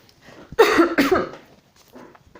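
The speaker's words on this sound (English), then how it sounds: "Sorry about coughing." A single harsh, close cough with a throaty burst, followed by a faint softer breath or second small cough.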